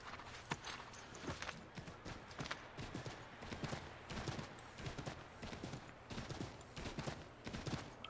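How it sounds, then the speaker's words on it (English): Horse hooves in the Assassin's Creed 3 video game clip-clop in a steady, quick trotting rhythm, fairly close and continuous, with occasional faint snorts and no talk over them. "Hey, it's a horsey!"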